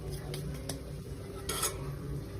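Sugar and food colouring stirred into sweet potato sheera in a pan, a soft scraping and sizzling with a few spoon clinks against the metal, close and fairly quiet.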